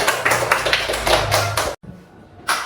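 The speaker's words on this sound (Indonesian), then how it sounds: "Tepuk tangan untuk kita dulu." Children in a classroom clap their hands in a quick, lively burst of irregular claps, which breaks off suddenly before a few more claps start again at the end.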